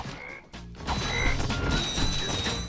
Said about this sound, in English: those frog sound effects are directly from Spyro